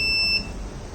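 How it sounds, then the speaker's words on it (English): A high electronic gas alarm buzzer tone sounds steadily for a moment, then cuts off, leaving a low hum. "automatically the buzzer provides us the audible alerts"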